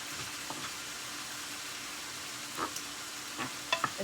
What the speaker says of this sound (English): Alright, so I'm just going to give this a good stir.